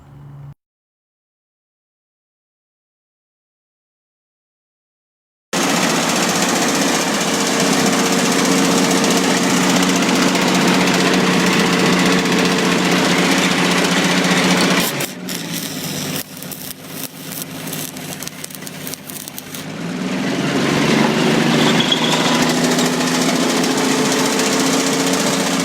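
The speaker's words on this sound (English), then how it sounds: "I'll just hook up an engine to this and I'll just spin it up to speed" A vintage Detroit engine drives a 1943 Lincoln SAE400 welding generator, a loud, continuous, harsh mechanical drone that starts abruptly after silence, dips and stutters in the middle, then surges back to full speed.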